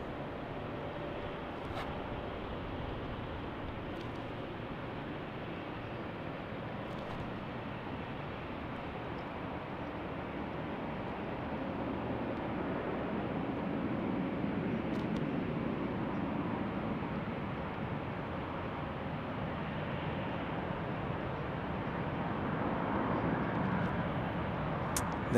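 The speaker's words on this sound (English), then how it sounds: "And here comes this MD-11 from UPS." A UPS MD-11 approaching Salt Lake City Airport gives a steady, distant jet rumble that swells slightly louder over the second half, a broad low roar with no talk.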